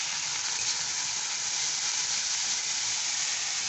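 Spices with fennel powder and chili powder sauté in a pan, giving a constant, even sizzle with no pauses or talk.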